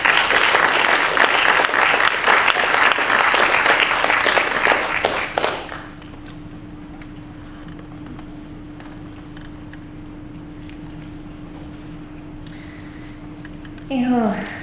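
Dense, loud applause from a lecture audience welcoming Indigenous speaker Waziyatawin, sustained for about five seconds before cutting off abruptly into quiet room tone with a low hum.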